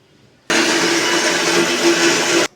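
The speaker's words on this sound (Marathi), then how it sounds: "मिक्सरमध्ये वाटून घेते मी जाडसर" A mixer grinder coarsely grinds ajwain and cumin, starting abruptly into a loud, steady whirring roar that holds for about two seconds, then cuts off, close up with no speech.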